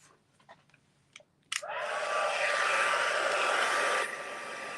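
A heat gun heat-sets craft paint on a handmade gift card holder, switching on abruptly after a few faint taps and blowing as a steady, loud, broadband whoosh with a thin whine, easing slightly near the end.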